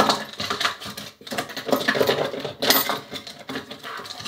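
Metallic jingling and clinking of keys, a busy, rattling clatter that rises and falls close to the microphone, with a brief dip near the middle, no talk.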